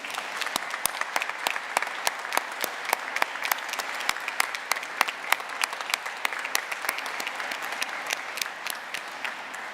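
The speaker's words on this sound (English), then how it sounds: "let's join me in giving them a round of applause" At a university business school commencement in an arena, a large crowd applauds the graduates' families. The clapping is steady and sustained, with many distinct sharp claps rising above the dense, echoing wash.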